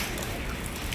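Rain falls outdoors in a steady, dense hiss of drops striking surfaces, even and fairly loud throughout the short stretch with no voices.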